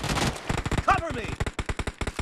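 Machine gun fire in PUBG, a dense rapid string of loud gunshots in close succession, with a voice calling out briefly near the start.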